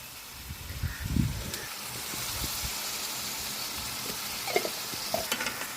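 Chicken curry with salt and turmeric being stirred in a hot pan: a continuous close sizzle with a few scraping spoon strokes and soft knocks against the pan, no talk.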